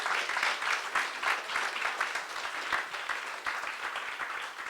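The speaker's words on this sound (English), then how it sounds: "let's give the chairman a round of applause for that incredible political report" Audience at a political party congress plenary applauding the chairman after his report, steady rhythmic clapping from a sizeable crowd, moderately distant and sustained without talk.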